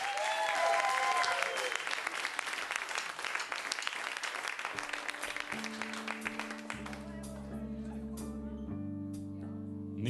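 An audience applauds a band in a live radio studio, a burst of clapping that thins out as instrument tones and voices take over.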